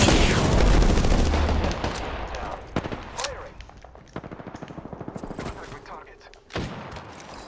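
Rapid bursts of automatic gunfire crackle through a battle-royale shooter match, a long dense volley at first, then scattered rattling shots and single cracks, with players talking over the action.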